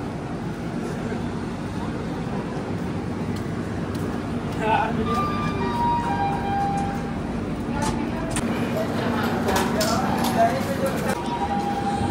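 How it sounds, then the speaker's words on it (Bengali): A passenger train pulling away from Kiul Junction, a steady low rumble and rolling hum with faint clanks heard from inside the carriage, continuous and moderately loud throughout. "7:33 আর কিউল জংশন থেকে ট্রেন ছাড়লো।"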